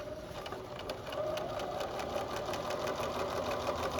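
A sewing machine runs steadily along the edge of a fabric fold, a faint, continuous stitching hum with a regular rapid pulse throughout.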